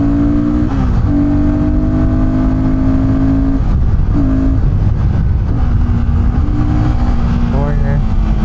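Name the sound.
Royal Enfield Guerrilla 450 motorcycle engine revving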